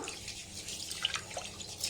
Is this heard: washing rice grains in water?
yes